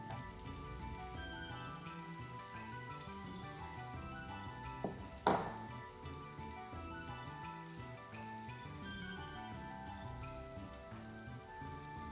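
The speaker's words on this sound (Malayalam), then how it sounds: "ഇതിലേക്ക് നമ്മൾ വറുത്തെടുത്ത് വെച്ചിരുന്ന ചെമ്മീൻ ചേർത്ത് കൊടുക്കാം." Quiet, steady sizzling of fried prawns cooking in gravy in a pan, with a brief clink of a utensil midway; no voices.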